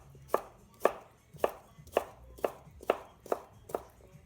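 A knife chops vegetables for a Greek salad on a cutting board, eight crisp, evenly spaced strikes about half a second apart, close and fairly quiet, with no voices.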